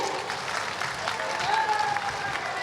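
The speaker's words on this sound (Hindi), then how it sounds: "तो मैं चाहूंगी कि एक बार जोरदार तालियां मंच तक पहुंचे" An audience claps in a steady, dense wave of applause at a stage event, close and full for the whole stretch, with a faint voice over the clapping.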